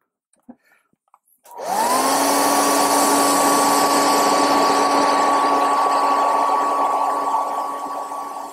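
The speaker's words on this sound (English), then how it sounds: "Hit that with the hair dryer." A hair dryer blows steadily on a sculpted Hellboy figure in progress, switching on after a few faint clicks and then running as a loud, constant whoosh with a steady whine for the rest of the clip.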